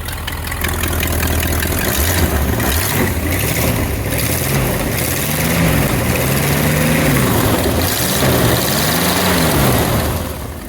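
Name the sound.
1960 Ford Thunderbird engine idling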